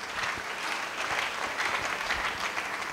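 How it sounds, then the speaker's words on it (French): An audience claps steadily for the king, a dense, even wash of applause lasting throughout without pause or talk. "Acclamons très fort pour le roi."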